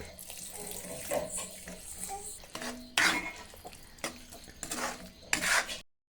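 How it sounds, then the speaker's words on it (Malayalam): Vinegar is poured into lemon pickle in a pan as a splashing trickle of liquid, broken by spoon scrapes and clinks against the metal. It comes in uneven bursts and then stops abruptly into silence. "നമുക്ക് കുറച്ച് വിനാഗിരി ഒഴിച്ചു കൊടുക്കുക അതിലേക്ക്"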